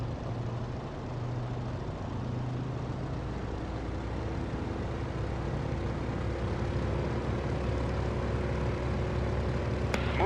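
Steady propeller engine drone from a Yak-52 trainer aircraft in the DCS flight simulator, held at about 70% RPM, loud and continuous with a faint tonal shift partway through, no voices.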